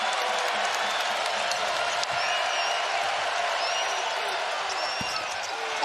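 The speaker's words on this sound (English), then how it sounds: "And here comes this crowd one more time." A basketball arena crowd at a Utah vs. Iowa State Big 12 men's game cheers and applauds in a steady, dense roar, with a commentator talking over it.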